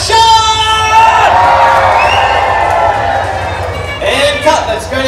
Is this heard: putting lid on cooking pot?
no